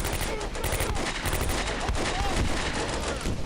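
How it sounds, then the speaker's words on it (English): Mortars fire in the war video game Combat Mission, a dense run of rapid, overlapping booming blasts and crackles that goes on through the whole stretch. "Oh, some mortars being fired."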